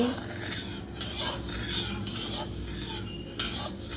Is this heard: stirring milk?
yes